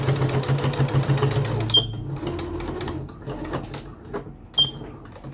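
A sewing machine stitching a fabric face mask whirs rapidly and then stops, followed by soft clicks and handling sounds from the fabric and machine.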